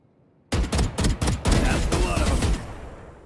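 A rapid string of loud gunshots in Valorant, around five sharp cracks in quick succession blurring into a dense burst before fading out, heard close and alone.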